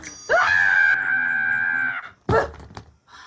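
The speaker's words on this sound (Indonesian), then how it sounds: "Kenapa teriak-teriak atuh?" A person in an Indonesian film screams loudly in a long sustained shriek, then breaks off and lets out a second shorter, ragged scream after a brief pause.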